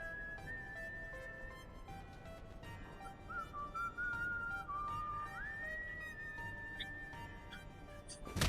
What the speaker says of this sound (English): Whistling the Empire's theme song